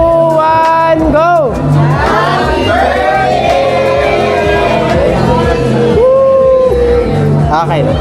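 A group gathered for a birthday shouts and cheers loudly together, with whoops and rising yells overlapping close by for several seconds.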